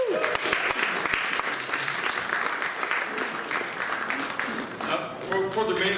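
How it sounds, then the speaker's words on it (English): A comedy show audience applauds steadily for about six seconds, a full, continuous wash of clapping with some crowd noise and a voice or two near the end. "How about another round of applause for those guys?"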